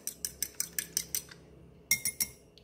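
Eggs are beaten in a bowl for a moringa omelette, a utensil clinking against the bowl in a quick, steady run of about eight light strokes, then a short pause and three more. The strokes are close but fairly soft, with no talking.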